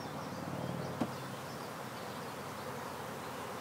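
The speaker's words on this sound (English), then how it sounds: "Can you hear all this buzzing?" Bees buzz steadily around an open beehive during beekeeping, a dense, continuous hum that stays fairly quiet and even, with one brief faint tap near the start.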